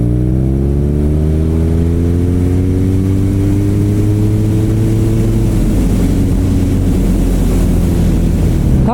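A BMW R nineT motorcycle engine pulls from 40 to 60 around 3,000 revs, its loud harmonic note rising smoothly and steadily as it accelerates under heavy wind roar, with no talking.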